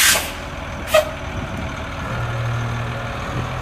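A 1994 Ford LT8000 dump truck raises its dump box: a sharp air-release hiss or two up front, then a steady low hydraulic drone and engine hum, close and without speech.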